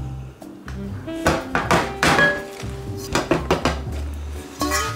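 Freshly baked red velvet cake layers are knocked out of metal pans onto a cooling rack, making a series of clanking, thudding metal hits and rattles close by, with a few short pauses between them.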